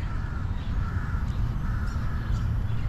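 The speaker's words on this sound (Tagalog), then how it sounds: "Ang daming huni ng bird." Crows caw repeatedly in Lumpini Park, Bangkok, several harsh calls spaced across a steady low city rumble, at moderate distance.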